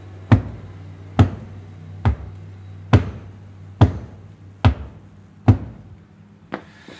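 Homemade cigar box stomp box struck in a steady beat, eight sharp percussive knocks with a low thump, evenly spaced about once per second, close and alone with no talk.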